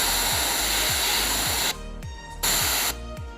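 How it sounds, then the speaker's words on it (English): Airbrush spraying paint at high air pressure onto a fishing lure through a plastic kitchen wrap stencil, a loud steady hiss that cuts out briefly twice, with faint low knocks underneath. "I'm also spraying at a quite high air pressure"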